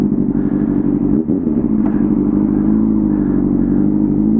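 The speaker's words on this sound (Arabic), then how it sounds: "راه غتسمعوا الخوت الصوت ديال الموتور في شكل" A vehicle engine idles and runs on a seaside road, a loud, close, continuous low rumble with steady throbbing and one brief dip partway through, no voices.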